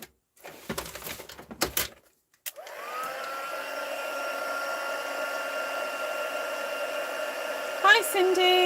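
A heat embossing tool used on a stamped card starts up after a few soft handling noises, then gives a steady, fairly loud blowing whir that runs alone to the end.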